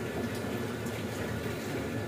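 Water poured into a glass in a home kitchen, a continuous gurgling, splashing stream at moderate level, steady throughout with no talk.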